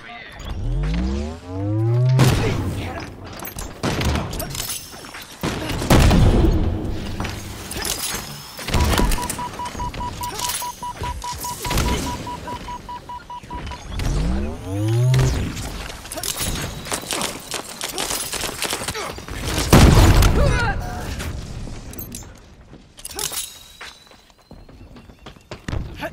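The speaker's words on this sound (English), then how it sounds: "Who's throwing dynamo grenades over here?" Dynamo grenades detonate in a Halo multiplayer match with friends: several sharp bursts scattered among whooshing game effects, with a steady beeping tone in the middle.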